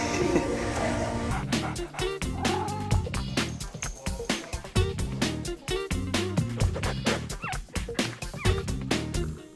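Several puppies yipping and whimpering in quick, overlapping bursts, close and busy throughout.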